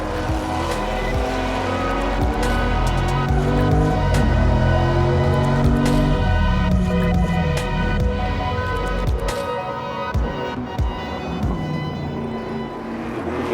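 A Ford GT40 race car on the road during the Tour Auto, its loud V8 roaring close by as it accelerates and shifts, engine pitch rising and falling, then easing to a lower rumble near the end.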